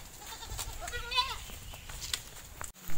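Native goats bleat on a farm in a short wavering call, close and fairly clear, with a few other farm noises and a sharp knock near the end.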